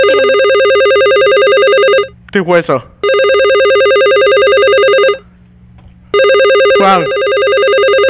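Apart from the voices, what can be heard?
telephone ringing in Garry's Mod horror map video game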